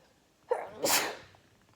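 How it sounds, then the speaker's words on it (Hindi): A woman sneezes once, close and loud, with a short sharp intake followed by a burst that fades off. "और मुझे ना छींक आने वाली है"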